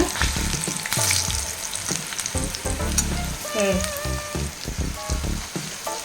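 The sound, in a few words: vegetarian nethili (anchovy-style) fry crisping in oil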